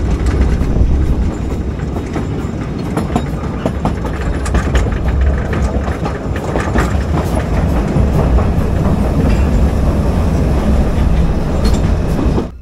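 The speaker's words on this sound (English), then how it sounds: "The train passes under the bridge." Steady, loud rumble of a steam park railway train passing under a bridge at Cottbus, Germany, wheels clattering continuously on the rails with no talking.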